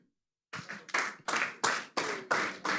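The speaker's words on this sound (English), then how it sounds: "that weak clap now speaks volumes" An audience at a live-streamed event gives a weak, sparse round of clapping: about eight distinct claps in a slow, uneven rhythm after a brief silence, close and clear with no talking.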